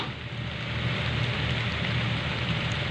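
A rainstorm hisses steadily in a rural setting, a fairly faint, even wash of falling rain with a low rumble beneath and no voices.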